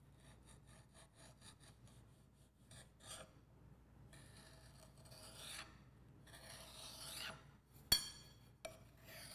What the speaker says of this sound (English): Using the straight edge, trim smooth the top of the soil mold.